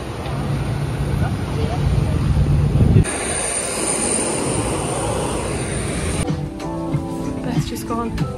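Steady airplane engine roar fills the cabin, a broad low rumble with a constant hum, briefly mixed with faint indistinct voices.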